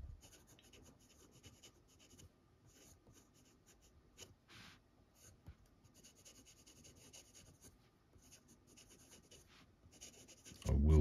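A Jinhao 80 fountain pen with a steel nib scratching across paper, close and quiet, in short bursts of strokes with small pauses between them.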